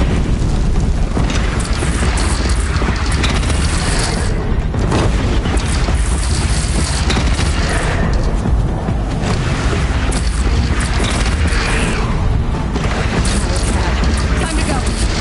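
Cannon fire rolls through a battle in the video game Horizon as a dense, continuous barrage of heavy booms and blasts, loud and nearly unbroken, with a voice briefly audible beneath.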